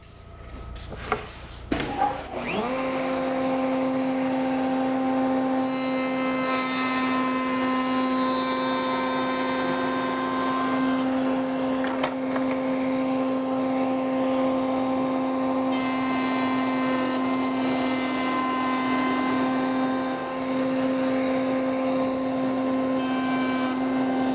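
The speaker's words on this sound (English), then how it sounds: "we're going to cut those joints right now, all those groove joints" A woodworking router cuts groove joints in wood for a grandfather clock, starting up after a few brief knocks and then holding a loud, steady high-pitched whine with a constant tone for the rest of the stretch, with no talk.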